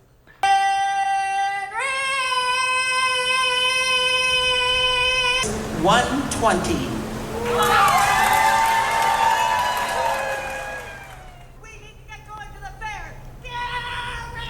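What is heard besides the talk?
women screaming in Iowa State Fair husband calling contest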